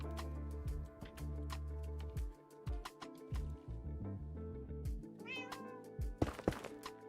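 A cat in the Minecraft video game meows several times, with one drawn-out rising meow near the end, set against steady tonal in-game sound and a few sharp clicks.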